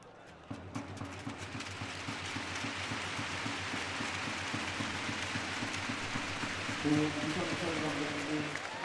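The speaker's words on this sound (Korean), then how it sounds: "66초 동안의 박수로 고 유상철 감독을 추모할 예정입니다" Steady sustained applause from a football stadium crowd, clapping for 66 seconds in tribute to the late coach Yoo Sang-chul at an Ulsan versus Seongnam match, broad and continuous throughout, with a brief swell near the end.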